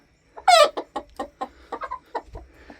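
Close chickens clucking in a quick irregular series of short bursts, starting with a louder squawk, with no talking.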